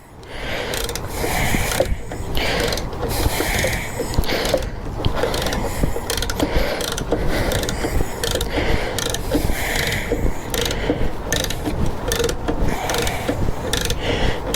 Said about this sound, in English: So I'm going to take this bolt off the other side.